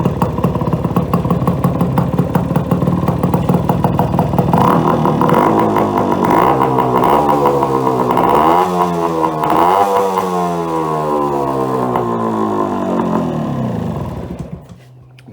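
A 1974 Yamaha RS100 two-stroke motorcycle with a custom TIG-welded exhaust and suspect reed valves idles loudly with a rattling ring-ding, revs up in several rising and falling sweeps, then drops back and cuts off.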